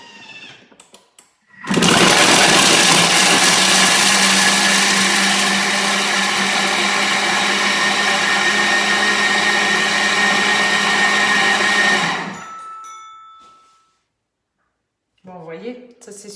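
A kitchen robot blends gluten-free choux pastry dough at speed 9 for about ten seconds, a loud, even motor whir that starts and stops sharply, with a person talking before and after.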